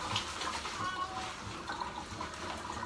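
Water splashing and pouring from a bucket during a bucket-and-dipper bath in the Philippines, a faint continuous wash of liquid with soft splashes, a voice talking faintly in the background.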